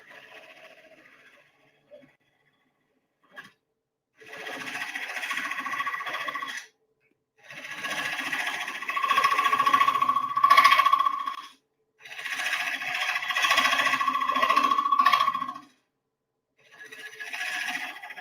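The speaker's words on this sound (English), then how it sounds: "I'll rub the bevel, roll the tool over, pick up the cut." A long grind bowl gouge cuts wood on a lathe in repeated passes, each a loud, close, whining scrape lasting a few seconds, with short quiet pauses between them.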